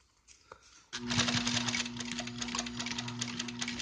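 An upholstery sewing machine runs a top stitch along a car seat cover seam, starting after a short pause and then whirring continuously with a rapid, even needle rhythm up close.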